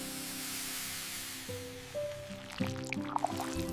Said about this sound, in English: I pour the Maggi onto the plate.